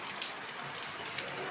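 Steady rainfall pattering on surfaces, a close, even wash of noise with a couple of slightly louder drops, and no speech.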